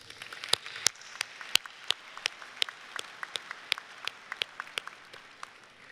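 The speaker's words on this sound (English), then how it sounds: "Please give them a round of applause" Sparse, scattered hand claps from an audience at an Auburn University fall undergraduate commencement, sounding as a faint, uneven patter of individual claps rather than full applause.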